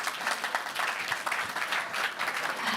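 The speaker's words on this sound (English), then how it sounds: "So to all of you, a round of applause," An audience at a high-level climate action conference event applauds steadily, with dense, even clapping that carries through at a constant level.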